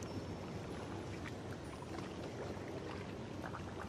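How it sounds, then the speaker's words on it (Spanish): Water runs steadily in a calm outdoor spot, a soft, continuous wash of flowing water at low volume with no voices over it. "el sonido del agua"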